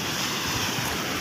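Flood water rushes over a bridge in the Sahyadri hills after heavy rain. It is a close, steady, broadband roar, with no voices heard.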